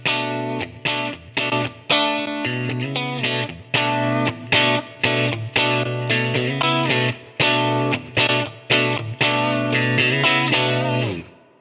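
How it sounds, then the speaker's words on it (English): Electric guitar played through a Cali76 stacked compressor pedal, switched on and off while playing: a run of distorted, chorus-tinged chords and single notes, loud and close, with sustained tails between strums. "You can check this by turning your compressor on and off while playing"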